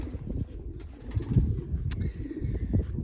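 Racing pigeons coo in low, throaty bursts, close and fairly soft, with a few faint higher chirps between the calls.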